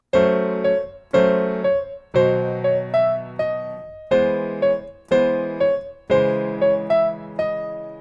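A solo piano interlude from a song: repeated struck chords with a melody on top, each phrase ringing and fading in a steady, gentle rhythm.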